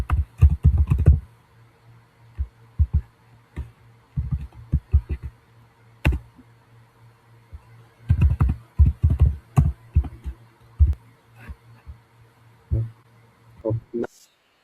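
Code being typed on a computer keyboard: bursts of quick close key clicks separated by pauses, over a faint steady hum, with no talking.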